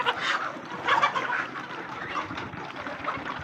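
A dense chorus of a flock of about six hundred chickens clucking and murmuring at once while eating feed from a dish, close by and continuous, with soft pecking rustle underneath.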